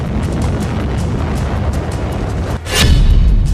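Explosions from the war in Ukraine rumble as a continuous loud low roar, with a sharper burst near the end swelling into a heavier boom.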